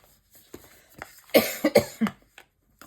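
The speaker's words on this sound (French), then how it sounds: "Je tousse un peu" A woman coughs several times in a short burst, a few soft hacks followed by three sharper, closer coughs and a faint trailing one, in an otherwise quiet room.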